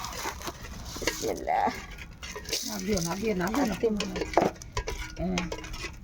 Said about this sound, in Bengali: চাল নিয়ে আসছি চাল ভাজবো আর হচ্ছে বাদাম ভাজবো